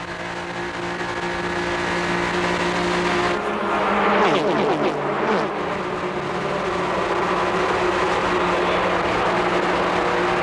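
Onboard a NASCAR Busch Grand National race car at Daytona International Speedway in 1994, a loud, steady engine roar drones throughout, briefly rising and shifting mid-run as the car moves through the pack.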